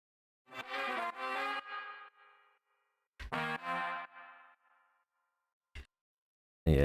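A dry trumpet with auto-tune plays two short bright phrases separated by silence, each fading out, followed by a couple of brief clipped blips.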